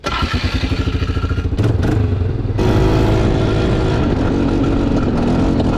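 A Polaris Sportsman 500 ATV engine runs with a rapid, throbbing putter, then revs louder as the machine pulls away on a ride, with clattering and thumps from the body.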